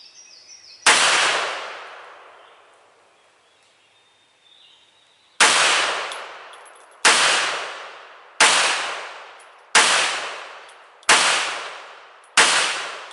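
A PMR 30 pistol chambered in .22 Magnum, firing 40 grain CCI Maxi Mag rounds at a range, cracks out six loud, sharp shots with ringing decays, one isolated and then five in a fairly steady rhythm.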